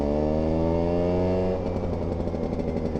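A Vespa smallframe scooter engine fitted with an expansion exhaust and a 19/19 carburetor drones loudly and steadily, its pitch sliding gradually downward before settling into a rougher, pulsing note, recorded close while riding.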